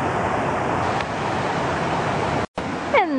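Water pours over the lower part of Ocqueoc Falls in a constant close roar, briefly cut out near the end before returning with a faint sweeping tone over the rush.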